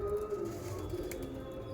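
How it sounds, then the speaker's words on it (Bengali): Andhra pigeons in a cage give a soft, low cooing that runs steadily under light background noise, close and fairly quiet, with no talking. "খুব ভালো কোয়ালিটির পায়রা"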